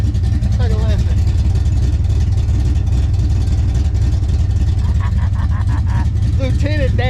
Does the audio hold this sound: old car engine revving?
yes